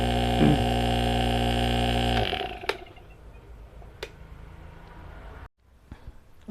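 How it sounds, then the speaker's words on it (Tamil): A rotary compressor in an inverter fridge or AC runs at full speed with a steady, loud tonal hum that cuts off after about two seconds, leaving a quieter background with a few clicks. "கூலிங்க்கு ஏற்ற மாதிரி இந்த கம்ப்ரஸர் ஓடும்"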